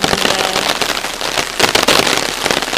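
Rain falls steadily in the bush, a dense, crackling patter of drops that stays fairly loud and even, with brief heavier bursts, and no voices.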